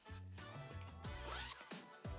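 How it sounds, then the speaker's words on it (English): A zipper pocket on a Stubble & Co bag is pulled open in several quick, close rasping strokes, each with a sharp zipping sweep, loud and clear with no talking. "Then there's another zipper pocket here that opens up to a pocket with, it looks like a couple inches of depth."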